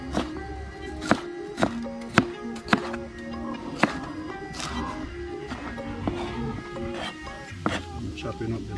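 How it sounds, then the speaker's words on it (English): Knife chopping bell pepper on a board while cooking, a dozen or so sharp irregular chops spaced across the stretch, close and distinct over faint kitchen background. "I'm chopping up the bell pepper."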